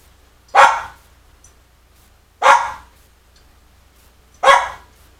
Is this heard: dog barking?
yes